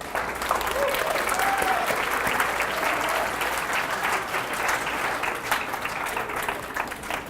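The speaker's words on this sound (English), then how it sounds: "Everybody give Alex another round of applause." Audience applause at a financial wellness seminar, a dense, steady wash of many hands clapping that holds strong for the full stretch, with a faint voice now and then underneath.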